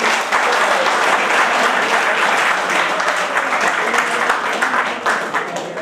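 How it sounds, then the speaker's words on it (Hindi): Loud sustained audience applause in a hall at a poetry event, with dense continuous clapping close by from start to finish and a slight fade at the end. "आपके लिए एक बार ज्यादा जोरदार तालियां हो जाए"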